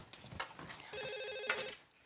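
A telephone rings quietly in a room, a short electronic trilling ring partway through, faint and a little distant among soft background sounds.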